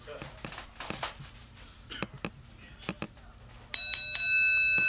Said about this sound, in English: And the bell has been rung, ladies and gentlemen.